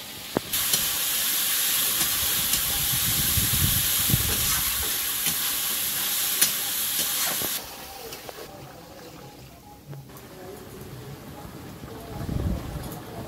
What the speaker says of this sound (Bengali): এদিকে জলটা ফুটছে, ওর মধ্যে সাদা তেল, গোটা গরম মশলা, তেজপাতা সব কিছু দেওয়া হয়ে গেছে।